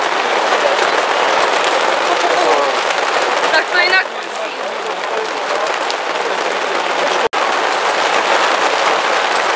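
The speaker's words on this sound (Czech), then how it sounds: "Prásknutí výstřelu, nám odstartoval první pokus v kategorii požární útok" A single sharp crack of a starting gun at an outdoor firefighting competition, opening the fire attack event, cuts briefly through a steady wash of crowd noise and applause.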